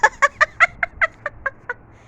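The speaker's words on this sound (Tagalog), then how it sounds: "Ang ibon Mary nauntog." A bird gives a quick run of about nine squawky, nasal chirps at an even pace, close by, growing slightly fainter toward the end.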